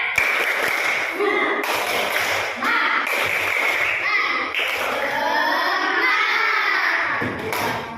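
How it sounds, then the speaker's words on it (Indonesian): Children in a third-grade Islamic primary school class do a rhythmic spirit clap, bursts of sharp clapping in patterned groups mixed with chanting young voices, loud and close across the whole stretch. "Tepuk semangat."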